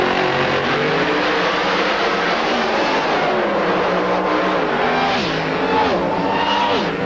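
Larry Dobbs' 2001 Corvette drag racer roars down the strip at an IHRA event, a loud sustained engine howl with rising and falling pitch as it pulls through the gears, with crowd noise beneath.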